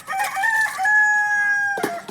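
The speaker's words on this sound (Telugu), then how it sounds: "చూడండి, కోళ్ళు కూడా కోతలు చూడండి ఎలా వేస్తున్నాయో పల్లెటూర్లలో." A rooster crows in a village in the early morning, one long loud call held steady for over a second, then a short rough cluck at the end, with no talk.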